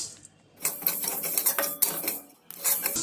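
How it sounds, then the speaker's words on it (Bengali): Whole spices for a chili pickle are dry-roasted and stirred in a hot wok, giving close bursts of scraping and metallic clinking separated by short quiet gaps, with no talking. "কড়াইতে আমি মশলাগুলো ভেজে নেব"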